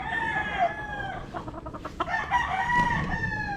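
A Gilmore cross Kelso stag rooster crows close by, with long harmonic calls and a brief clucking break midway before the crowing resumes.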